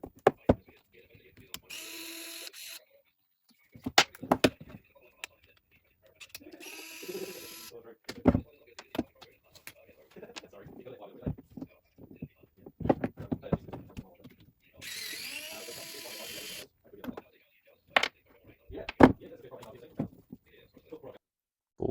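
Fittings being undone by hand on a switched-off P100 Pro pump, heard as close, intermittent clicks, ratchet-like ticks and short plastic scrapes separated by quiet gaps.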